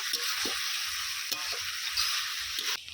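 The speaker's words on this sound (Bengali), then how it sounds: "আরও কিছুক্ষণ খুব ভালো করে নেড়ে চেড়ে কষিয়ে নেব" Chicken curry being stirred and fried in a pan, a steady close sizzle with repeated scraping strokes of the spoon at an even rhythm, heard alone without talk.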